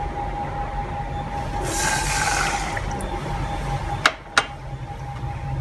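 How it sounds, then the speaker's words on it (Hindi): Milk is poured into a pot for coconut barfi, a brief rushing splash lasting about a second over low background hum, followed by two sharp clicks near the end. "सब तो पहले आप दुध ऐड करांगे।"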